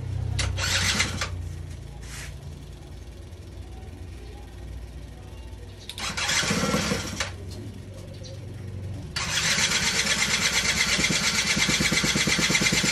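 A motorcycle shipped from Taiwan, its starter relay removed and the starter wired directly, cranks in short rough bursts and then catches into a steady, loud running engine that carries on to the end.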